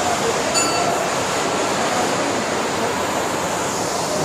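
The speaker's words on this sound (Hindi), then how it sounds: "ऊपर से देखो झरने, कितने ज़ोरदार झरने आ रहे हैं अभी।" Roaring waterfalls pouring down near a mountain cave temple of Shiva, a loud steady broadband rush of falling water with no pauses.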